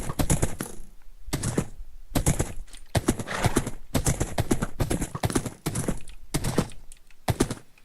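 Horse hooves clip-clop in the Minecraft video game, a steady run of regular, crisp hoof beats at moderate loudness that carries on through the whole stretch without pause.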